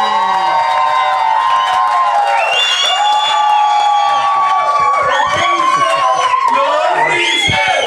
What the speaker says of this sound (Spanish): Así que un aplauso, por favor, para Gerardo Reyero.